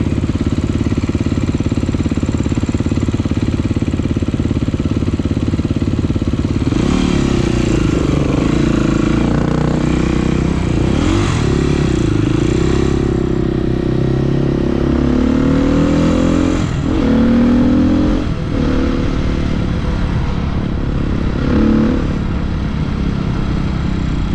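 A vehicle engine in Call of Duty Black Ops drones loudly and continuously while driving, with shifting revs and rattling surges partway through, close and dominant throughout.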